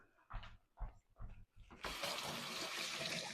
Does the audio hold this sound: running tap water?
yes